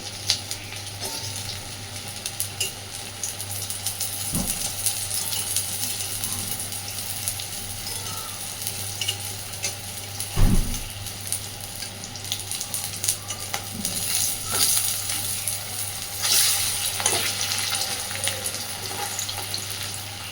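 Banana flower fritters deep-frying in hot oil in a pan, a steady crackling sizzle that runs throughout, with a faint hum beneath and an occasional clink of utensils.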